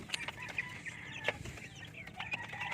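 Chickens cluck in short, scattered calls at close range, with soft rustling and low background noise between them and no talk.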